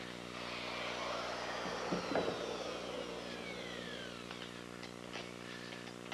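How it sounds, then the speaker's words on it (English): Steady, loud whine of a router fitted with a collar and straight cutting bit, routing a mortise in hard pine beam, running continuously with a brief rougher burst as the bit cuts. "To complete the mortise, I'm going to use my router, which is equipped with a collar and a straight cutting bit."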